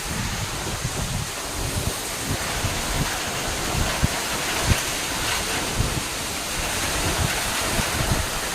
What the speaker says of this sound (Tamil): சரியான மழை பிள்ளைங்களா, தாங்க முடியல.